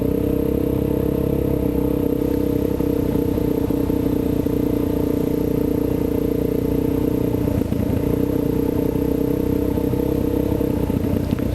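Kawasaki KLX 400 dirt bike riding trails on a group weekend ride, its engine droning steadily and loudly throughout with rumble and clatter, no talking.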